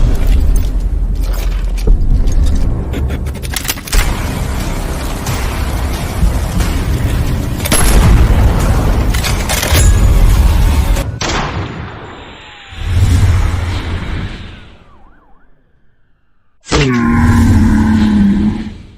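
An AWM sniper rifle made by Accuracy International, in an animated sequence, sounds as a series of heavy booming shots and roaring blasts layered with metallic clatter, loud and dense. The blasts break off into short sharp reports with near-silent gaps between them.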